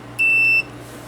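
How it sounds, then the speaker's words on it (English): A single clean electronic beep about half a second long from a multimeter continuity test on a Game Boy Color circuit board, loud and close against quiet background hum. "it did beep for half a second,"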